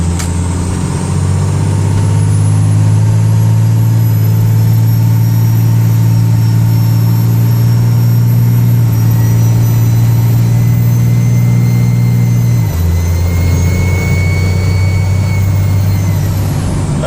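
A Cummins 24-valve diesel truck engine with a performance tune, 50hp DDP nozzles, roughly 75 horsepower injectors and an HX3540 hybrid turbo, drones steadily and loudly up close with a high turbo whine, dipping briefly near the end.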